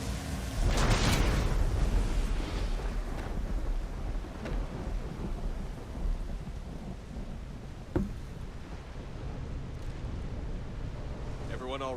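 Heavy rain and rumbling thunder in the video game Mass Effect 3, a loud dense downpour with a strong roll early on and sharper cracks later, continuous throughout.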